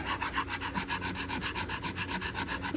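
Steady rhythmic rasping of a hand tool working a wooden guitar neck heel, shaping and blending the joint by hand; continuous close strokes repeating several times a second with no talk.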